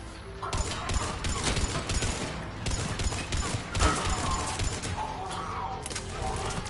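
Dense, chaotic gunfire and mechanical clatter from combat in the video game Mass Effect 3, with rapid overlapping shots, crashes and occasional tonal effects running continuously at a steady, moderately loud level.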